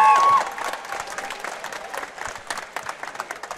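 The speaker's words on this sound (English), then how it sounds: "round of applause for our two fighters" Audience applause and crowd noise at a combat-sports fight event, a dense wash of clapping that starts loud and settles to a steady, slightly thinner patter with scattered louder claps.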